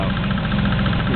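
A car engine idles near its intake manifold with a rapid, even ticking running through the steady engine hum, close and continuous throughout.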